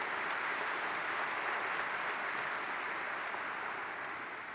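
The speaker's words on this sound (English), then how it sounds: "Let's give her a round of applause to show our appreciation." An indoor summit audience applauds in a steady, dense wash of clapping that holds loud and even throughout, easing slightly at the very end.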